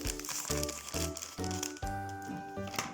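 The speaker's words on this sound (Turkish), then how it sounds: "Yaklaştır şimdi bana paketi açayım." A Haribo gummy candy packet is crinkled and torn open close by, with crisp plastic crackles in short bursts over a sustained tonal hum.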